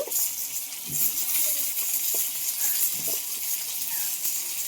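Pointed gourd and potato pieces fry in hot oil with a loud, steady sizzle and crackle, broken by a few soft thuds and clinks of pieces dropping into the pan.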